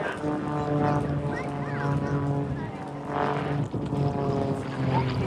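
Grob Tutor propeller aircraft flying a display at an air show, a continuous droning propeller hum with shifting pitch as it passes, moderately loud throughout under a steady background.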